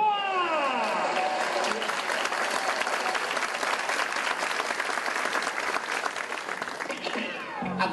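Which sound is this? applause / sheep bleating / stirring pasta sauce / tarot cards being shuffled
applause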